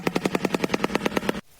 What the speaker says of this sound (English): I recently learned about the animal that is called the shoebill, and it sounds like this